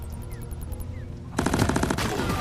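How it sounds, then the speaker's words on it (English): Smart rifle firing in Deep Rock Galactic, starting with faint rapid ticks over game ambience, then a loud sustained burst of fast automatic shots through the last second of the clip. "You just have to hold down the fire button and it will lock onto enemies."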